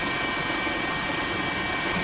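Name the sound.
news helicopter flying over tsunami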